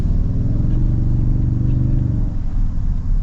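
A 2026 Toyota Tundra 1794 Edition V6 pulls under acceleration, heard as a steady, loud, deep rumble with a slight dip and recovery near the end, and no talking.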